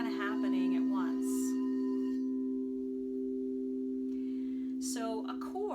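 Crystal singing bowls sounding together as a chord, several pure sustained tones ringing on evenly and clearly, with someone talking over the start and end.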